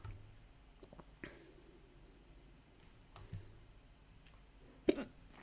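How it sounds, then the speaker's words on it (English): Hiccups from a person during a casual hangout, a few short, sharp gulping bursts spaced seconds apart, the loudest near the end, over quiet room noise. "I have the hiccups."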